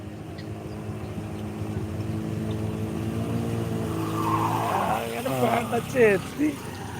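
A vehicle engine running as it drives through flood water on a street, a steady low motor rumble rising toward the end with rushing, splashing water, and a voice speaking over it.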